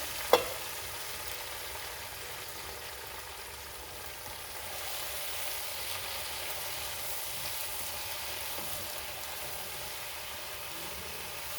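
Washed gongura (red sorrel) leaves fry and are stirred in a pan, a steady, even sizzling hiss that follows a brief clank at the start and keeps going alone without any talk.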